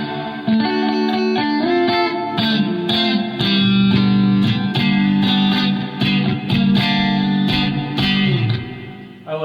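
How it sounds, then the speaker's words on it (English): Electric guitar chords ring out through a plate reverb effect with a bright, lingering reverb tail, strummed in a steady rhythm with notes washing into each other. "plate reverb."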